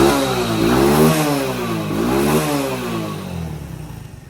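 Honda three-wheeler with a freshly cleaned carburetor, engine revved twice in quick succession, each rev climbing and falling back, close and loud with no talk.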